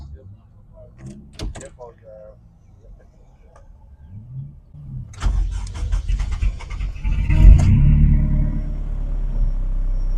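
A car engine cranks and catches after a fresh oil filter install, rising into a steady low rumbling idle over the second half; voices and handling noises come before it starts.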